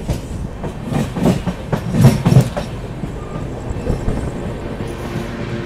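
The Mahabodhi Express on the New Delhi to Gaya run rattles along with rhythmic clickety-clack wheel beats, loud and close, with a heavier burst of clatter midway.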